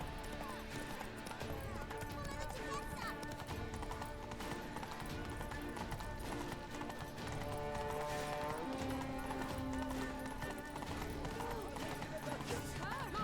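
Hoofbeats of a horse running in The Witcher 3, a steady clip-clop under a busy layer of game music and ambience, with whinny-like tones and a voice speaking over it.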